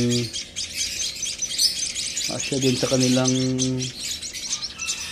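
Baby birds that fell from their nest chirp and squawk while being hand-fed with a spoon, shrill overlapping calls close by with a voice talking over them.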